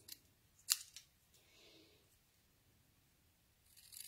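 Scissors trim a paper sentiment for a card, giving a sharp close snip near the start followed by softer cutting sounds, faint and without talk.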